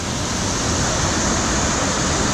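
Waterfall at Dinas Rock, a loud, steady, broadband roar of falling water that stays close and continuous throughout with no breaks.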